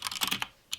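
Brisk typing on a computer keyboard while entering text in a terminal editor, a quick run of close, crisp key clicks over less than a second with a short pause before one last keystroke.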